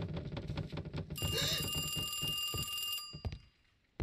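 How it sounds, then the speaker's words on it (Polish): A phone rings inside a video game, a bright electronic ring that holds for about two seconds over quiet thumps and movement noise, then cuts off abruptly. "Ktoś dzwoni."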